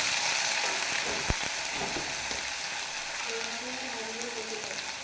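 Sweet pumpkin sizzles in a pan as a spatula scrapes and knocks against it, a steady frying hiss with a brief faint voice-like tone in the background.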